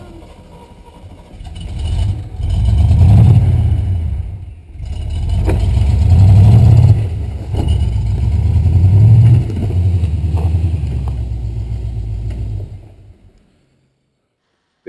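An off-road vehicle engine on a trail being revved in three or four rising surges, loud and close, settling back between pushes before cutting off near the end.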